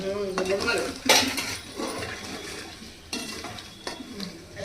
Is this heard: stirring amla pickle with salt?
yes